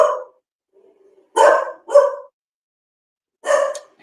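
Several dogs barking nearby in short separate bursts, loud yaps with brief silent gaps between them, no talking.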